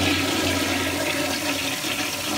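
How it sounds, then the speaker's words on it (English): A courthouse toilet flushing in a public restroom, a loud, continuous rushing whoosh of water close by, steady throughout with no talking. "Let me flush it real quick."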